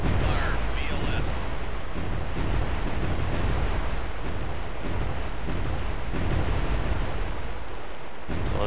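Missiles fired from the vertical launch system of an Arleigh Burke destroyer in Cold Waters give a steady, loud roaring rush like surf, with swells of noise and no clear separate shots.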